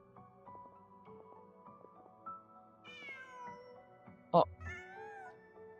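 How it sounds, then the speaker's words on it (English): A cat in the video game Genshin Impact gives a few soft meows over light background music, followed by a brief sharp sound and a short exclamation from a person. "Just a cat."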